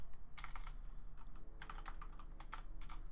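Quick bursts of typing on a computer keyboard, keys clicking in short irregular clusters with pauses between, close and fairly quiet over a faint background hum.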